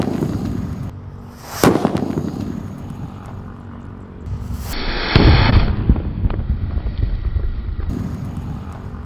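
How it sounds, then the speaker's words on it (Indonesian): A paper-wrapped firecracker bursts against a watermelon outdoors, with a sharp loud bang, a second heavier blast a few seconds later, and wind buffeting the microphone between them. "menyalakan mercon buntelan kertas ukuran yang ketiga dengan buah semangka"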